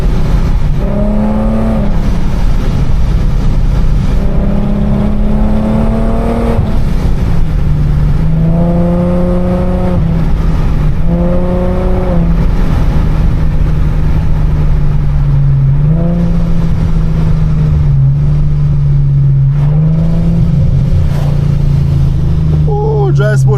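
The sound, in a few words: 700HP supercharged Infiniti G37 engine revving, accelerating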